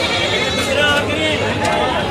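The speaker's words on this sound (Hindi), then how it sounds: "देखो ये बकरी है" An Ajmeri goat bleats repeatedly at the busy Balaheri goat market, close and clear over people talking nearby.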